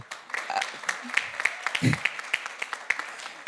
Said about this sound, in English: Just to give you a round of applause.